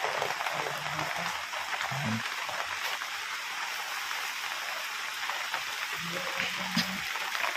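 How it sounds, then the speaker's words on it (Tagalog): Heavy rain pours down steadily as a dense, continuous hiss throughout, with faint voices talking briefly underneath. "Ayun na, nag-ulan na ng malakas."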